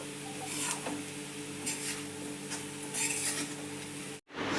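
Leftover chapati upma stirred with sugar in a pan, with soft repeated scraping and rubbing strokes in a few slow bursts, close and faint, cut off abruptly near the end.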